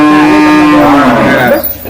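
A buffalo gives a long, loud, close moo that slides downward in pitch and fades into a rougher tail.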